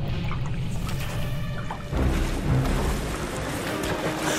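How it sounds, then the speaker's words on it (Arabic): Cartoon sewage water rushing and churning loudly and steadily through a tunnel, with a deeper surge partway through and no speech over it. "لا، مياه الصرف قادمة من هذا الاتجاه."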